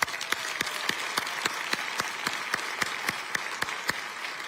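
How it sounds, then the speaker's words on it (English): A crowd at Riverside's State of the City address applauds the mayor and her husband, a steady wash of clapping from a large room with one sharp, evenly spaced clap standing out near the microphone. "Please give them a round of applause."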